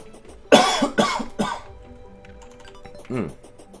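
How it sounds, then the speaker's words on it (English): A person coughs close to the microphone in a few sharp, harsh bursts, then after a quiet pause gives one more cough, with faint keyboard-like clicks in between. "One second, I have to cough here, I apologize."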